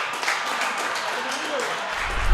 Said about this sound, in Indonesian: boleh tepuk tangan buat Rehan